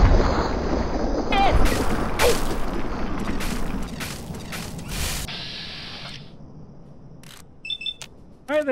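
Sentry bot robot in Fallout 3, a clattering run of mechanical ratchets and rapid gunfire-like bursts up close, fading to a quieter whirring hum with a few electronic chirps and beeps near the end.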